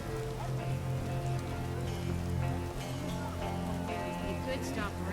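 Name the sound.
rain falling in the video game The Witcher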